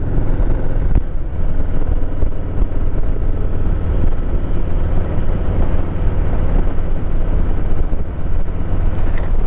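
A 2023 Harley-Davidson Heritage Classic 114 cruising on an autumn evening road, its steady, loud engine rumble blended with heavy wind roar at the microphone, continuous with no talking.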